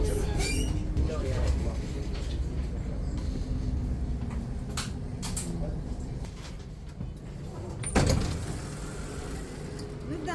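Riding a tram in Switzerland: a continuous low rumble of the moving car with rattles and brief squeals from the wheels, and a sharp clunk near the end. A voice speaks faintly over the ride noise.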